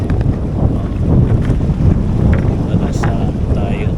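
Steady, strong wind buffets the microphone throughout in the Laguna area of the Philippines, a constant low rumbling roar with gusty swells and no pauses.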